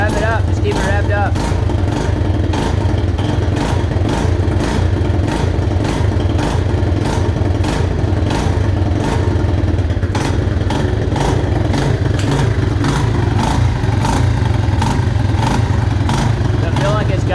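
A Suzuki Mojave 250 ATV engine runs and revs after a timing chain change, with a loud, rapid pulsing putter throughout and repeated surges in speed, close by, while people talk over it.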